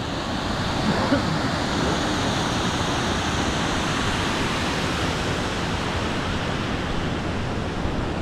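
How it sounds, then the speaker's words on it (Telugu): Steady, dense rushing of water pouring through the partly opened gates of Thatipudi Reservoir, Vizianagaram, fills the whole stretch, a constant broadband roar with no pauses and no voices. "గేట్లు అయితే లైట్గా ఎత్తినట్టున్నారు వాటర్ అయితే ఫ్లో అవుతుంది"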